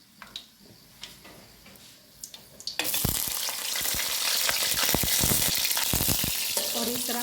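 Onions drop into hot roasted spices for vegetable pulao and burst into a loud, steady sizzle after a few quiet scrapes and taps, with stirring clatter over the frying.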